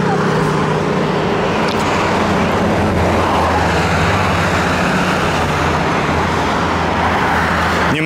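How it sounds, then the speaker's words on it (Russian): Street traffic of cars in Alanya, Konakli, in the evening: a loud, continuous roar of passing vehicles and engine rumble close by, with faint voices beneath. "Немножко меньше поток машин стал."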